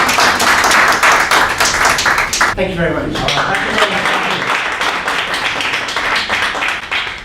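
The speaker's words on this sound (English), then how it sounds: "Give her a big round of applause." Applause from a conference audience at a sales-speaker event in Hong Kong, a steady dense patter of many hands running the whole time beneath someone speaking over it at close range.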